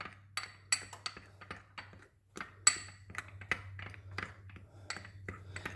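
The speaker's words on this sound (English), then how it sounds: "I'm just gonna mix all that in with that flour" Salt is stirred into flour in a bowl, with a quick run of close, crisp clinks and taps of a utensil against the bowl, a brief pause near the middle, no talking.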